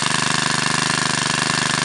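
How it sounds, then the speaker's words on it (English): A Shindaiwa PS344 chainsaw engine runs steadily at a constant speed, close and loud, with a fast even pulsing buzz and no speech. "Great sounding engine if you're into that."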